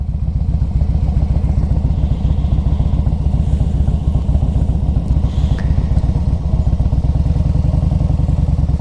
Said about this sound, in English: It's got that nice Harley rumble.